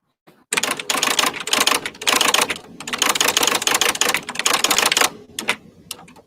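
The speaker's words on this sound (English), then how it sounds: "And I got to typing." Rapid, continuous typewriter-like key clatter, loud and close, with brief pauses between bursts and a few last isolated keystrokes.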